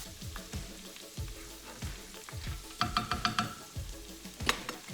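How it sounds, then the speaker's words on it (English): Anchovies, spaghetti and broccoli sizzle steadily in hot oil in a single pan, with a continuous frying hiss broken by irregular clinks and scrapes of stirring and utensil taps, close by. "those anchovies have just melted away into our oil, just sizzling nicely"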